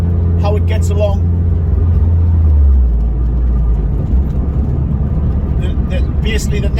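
Renault Clio 200 track car engine droning steadily at close range, a low rumble that shifts pitch midway as revs change, with talk over it.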